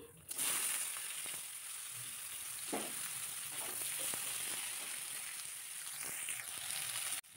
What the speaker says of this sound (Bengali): এখন এই মূলো আলুটা দিয়ে দেবো, যেগুলো শক্ত সবজি